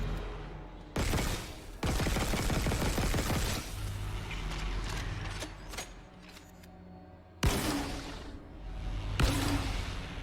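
Secondary-fire grenade launches from a weapon in Dead Space Remake, several loud blasts and heavy booms in bursts, with rumbling explosion tails and sci-fi game ambience between shots.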